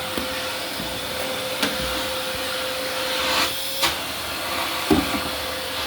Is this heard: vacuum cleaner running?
yes